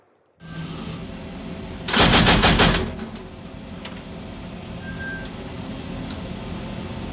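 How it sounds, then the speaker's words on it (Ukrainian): A vehicle-mounted heavy machine gun fires one short rapid burst of about a second, loud and close over a steady engine rumble that continues after the shots stop. "Машина раптово зупиняється, стрілок дає чергу."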